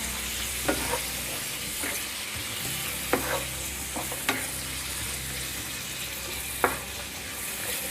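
Spoon stirring carrot and pea curry with spices in a hot pan, a steady sizzle with scattered scraping knocks, close and unaccompanied by talk.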